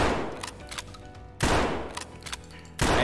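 A KS-23 shotgun loaded with barricade ammo fires three loud, evenly spaced booms in a video game armor test, each blast decaying before the next.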